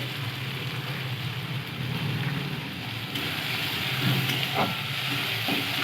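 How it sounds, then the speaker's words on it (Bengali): Chopped tomato and onion sautéing with salt in a pan for a spicy prawn curry, giving a steady close hiss and sizzle with faint stirring scrapes, no voices. "টমেটো পেঁয়াজটাকে একটু ভালো করে কষিয়ে নেব টমেটোটার উপরে একটু লবণ দিয়ে দেবো"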